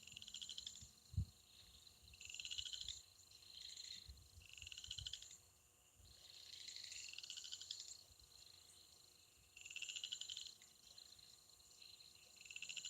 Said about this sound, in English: Here comes the loud frogs.